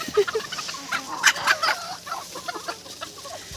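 Chickens cluck nearby, with a rooster chasing a hen around a farmyard, giving short, busy clucks and squawks at close range.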